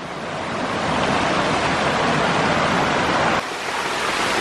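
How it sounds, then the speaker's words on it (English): Loud, steady roar of a fast-flowing river, swollen by recent rain, rushing close by, a constant broadband wash with no pauses. "That is some fast moving water."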